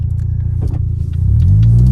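A built engine in a Nissan 200SX idles with a deep, loud rumble, then revs up and climbs into a rising drone, heard close from inside the car.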